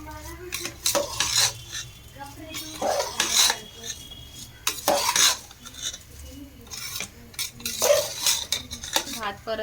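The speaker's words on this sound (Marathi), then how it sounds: "चांगला भात परतून घ्यायचा." Rice for veg pulao is stirred and sautéed in a pan over a high flame: repeated scraping and clinking of a metal spoon against the vessel in irregular bursts, with a faint sizzle underneath.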